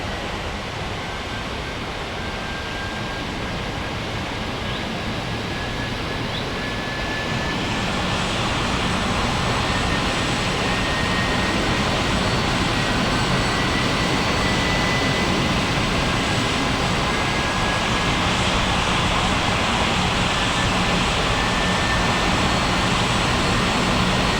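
Aircraft engines in an air traffic control video game make a steady, broad roar with a thin high tone, swelling noticeably louder partway through and then holding constant, with no voices.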